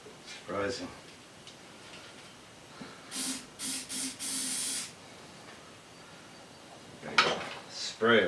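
Short hissing bursts of starting fluid sprayed into an SX motorcycle engine, several quick spurts in a row followed by a longer hiss, with someone talking before and after.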